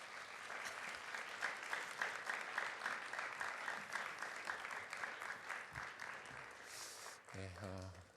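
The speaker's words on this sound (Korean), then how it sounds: "우리 목사님 나오실 때에 박수로 환영 인사하도록 하겠습니다" Steady applause from a church youth service congregation welcoming the pastor, continuous clapping with a rhythmic pulse. It ends as a voice speaks over a brief electronic tone.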